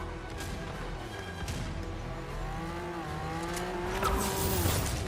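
A car engine revs and whines steadily with shifting pitch, a vehicle driving in Fortnite, with some background noise.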